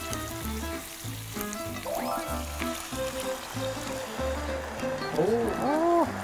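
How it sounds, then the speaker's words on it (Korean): Seasoning sauce poured into caramelized brown sugar for braised galbi with rice cakes, sizzling and bubbling in the pan alongside stirring, with voices talking over it throughout. "황설탕 가지고 바로 그냥 이렇게 캐러멜라이징을 먼저 하고 그리고 나서 양념을 부어줄게요"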